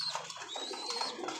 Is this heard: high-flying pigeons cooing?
yes